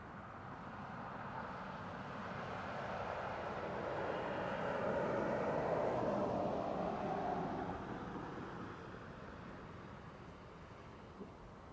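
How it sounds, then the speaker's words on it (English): A Ryanair jet operated by Buzz lands at Manchester Airport after a flight from Dubrovnik. A broad, distant roar builds slowly to a peak at mid-clip, then fades away under a clear sky. "Coming in from Dubrovnik with flight 5952 for Ryanair, operated by Buzz, SPRZG."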